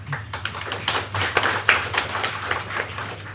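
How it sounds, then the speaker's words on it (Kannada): Applause from an audience at a prize-distribution victory celebration, a dense patter of many hands clapping steadily for a few seconds at moderate distance. "ಎಲ್ಲರಿಗೂ ಈ ವಿಜಯವಾಣಿ ಪೂರ್ತಿ ಚಿತ್ರತಂಡಕ್ಕೆ ಒಂದು ದೊಡ್ಡ ಚಪ್ಪಾಳೆ ಬರಲೇಬೇಕು"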